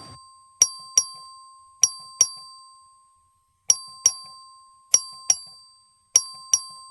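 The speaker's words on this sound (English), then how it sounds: "The clerk ring the bell." A clerk's voting bell in the Texas House chamber rings in clear, bright paired strikes, each ding ringing out and decaying, repeated five times over a quiet room.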